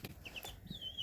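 Young chicks chirp and cluck softly in a few short, high peeps, faint and close, with no talking.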